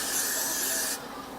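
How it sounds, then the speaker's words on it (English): Hairspray hisses onto hair in one short, close spray lasting about a second before cutting off. "Hairspray to kind of keep everything intact at this point"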